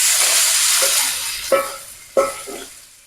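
Prawns dropped into hot oil in a pan, a loud steady sizzle of frying with a couple of sharp crackling bursts as pieces hit the oil, close and without voices.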